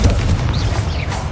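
Confringo fire spell blast in the Hogwarts Legacy video game, a dense booming burst with crackling rumble that fills the short moment, loud and close.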